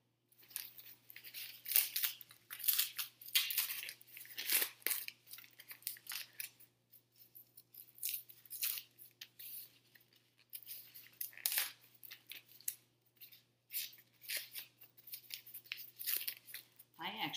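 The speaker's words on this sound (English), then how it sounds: "before I keep cutting or tearing off the paper" Paper being cut with scissors and torn off, repeated close snipping and ripping bursts in an irregular rhythm, moderately loud against a faint steady hum.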